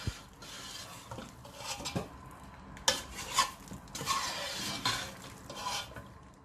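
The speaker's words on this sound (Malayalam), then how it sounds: "ഇനി നമുക്ക് ഇതിനൊരു സെർവിങ് ഡിഷിലേക്ക് എടുത്തിട്ട് മാറ്റി വയ്ക്കാം." Kerala-style chicken roast (chicken varattiyathu) being scraped and spooned from a pan into a serving dish, with repeated metal-on-pan scrapes and clinks in an irregular rhythm, close and moderately loud, with no talking.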